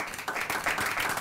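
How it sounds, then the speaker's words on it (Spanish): A short burst of studio audience clapping, steady and fairly close, lasting about a second. "el aplauso fácil"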